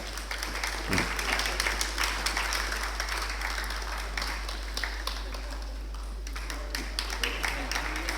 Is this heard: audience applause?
yes